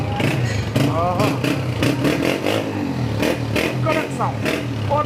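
A 2019 Honda CB125F motorcycle engine runs steadily under loud, continuous talk, with revving swells and mechanical clatter close by.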